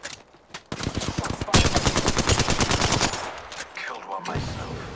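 Rapid automatic gunfire from an Apex Legends match rattles loud and close in a dense burst of shots, preceded by a few scattered single reports and trailing off into quieter action noise.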